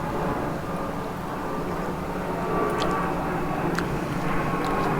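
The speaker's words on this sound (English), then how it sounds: "Planes are following me today." An airplane passing overhead near an inshore reef fishing spot, a broad steady engine rumble that swells slightly in the middle and holds fairly loud for the whole five seconds, with faint chirps above it.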